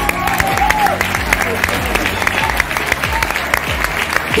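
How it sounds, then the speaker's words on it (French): An audience at a business success event applauds steadily and fairly loudly, with dense clapping running throughout while a voice carries on underneath and a faint crowd murmur lingers. "Alors, cette année, on va applaudir."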